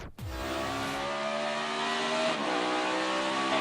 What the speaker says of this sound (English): But here's what it looked like from inside Carl's car.